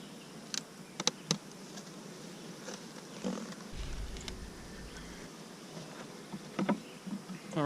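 Italian honey bees buzz around a hive during an inspection, a faint, steady hum broken by a few close knocks and handling sounds, with no talking.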